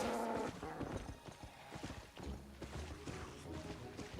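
Horse hooves clip-clop in the online video game Albion Online, a run of quick, fairly loud steps after a brief musical game sound at the start, close and continuous across the clip.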